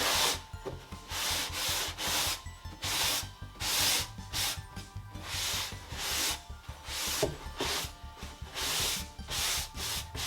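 Painted wooden TV cabinet shelves being wiped down after a wash finish, a close rhythmic rubbing and scrubbing in repeated strokes, fairly loud and steady with no talking.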